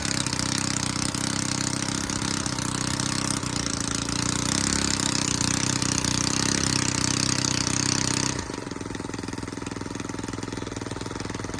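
A cheap budget engine bought for about 100 pounds runs roughly and loudly at a steady idle, a dense rattling drone that suddenly drops to a quieter, thinner idle near the end, with no voices.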